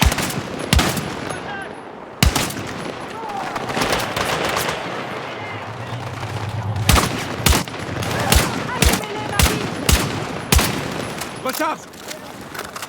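Gunfire in Battlefield 6: loud, close rifle shots in sharp separate bursts and single cracks, with rapid automatic fire, under French game voice chatter and radio calls.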